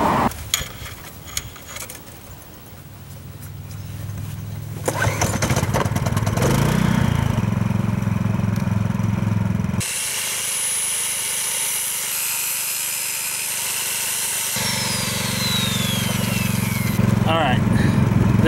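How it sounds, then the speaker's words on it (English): A tile saw cuts into thick stone while building a stone column entrance, its motor droning steadily and loud with the blade pitch shifting as it bites and eases through the material, with some talk at the start. "measure it up on the tile saw and give it a cut"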